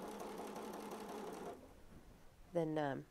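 A sewing machine stitches steadily through thick, layered seams for about a second and a half, a close, quiet rapid whir, then stops; a voice talks briefly near the end.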